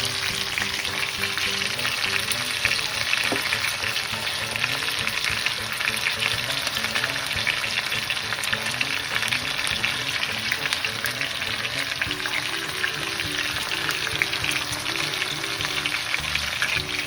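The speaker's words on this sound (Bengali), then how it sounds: "মোটামুটি অনেকটাই ফ্রাই হয়ে গেছে চিকেনটা" Chicken for biryani fries in a pan with a loud, continuous sizzling hiss and occasional faint stirring clatter, steady throughout with no talk.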